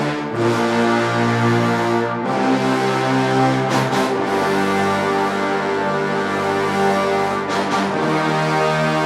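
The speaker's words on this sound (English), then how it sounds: "the trombones are sort of these more mid-range chords, and then the low brass are just these big root notes together" Low brass and trombones sustain big, loud orchestral chords, the trombones holding mid-range harmonies while the low brass drones deep root notes together, swelling in long held blocks with brief breaks between changes.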